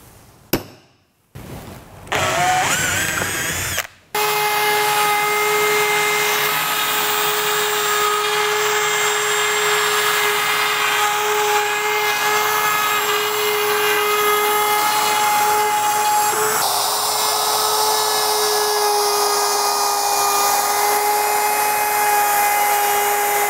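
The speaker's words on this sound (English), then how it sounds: "I used a simple bearing guiding router bit to cut the chamfer." A router fitted with a bearing-guided bit cuts a chamfer on a wooden radius casing, with a few short bursts as it spins up, then a loud, steady high-pitched whine held for about twenty seconds close by.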